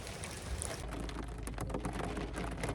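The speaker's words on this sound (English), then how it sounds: "So now we're sitting in the car and it's raining more." Steady rain drumming on a parked Factory Five Type 65 race car, heard from inside the cabin as a dense, continuous patter with small drops ticking close by throughout.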